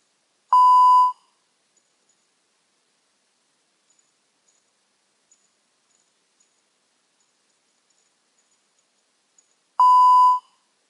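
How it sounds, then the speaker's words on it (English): Strength-training software sounds two identical clean electronic start beeps, each about half a second long and roughly nine seconds apart, with near silence between them. "the software will generate a beep that tells the athlete that he can start to perform the movement"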